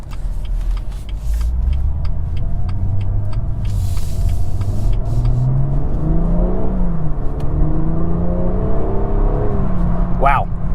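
A BMW M240i accelerates on the road with a steady engine drone that climbs in pitch, then dips and climbs again, heard from inside the cabin. A short whine comes near the end, and someone talks over it.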